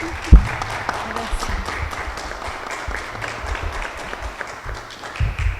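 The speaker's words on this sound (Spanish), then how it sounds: "Demos un cordial aplauso a la doctora Flor de María Salazar." Audience applause fills a room at a book presentation, a steady broadband patter of many hands sustained throughout, with a thump near the start and some voices murmuring underneath.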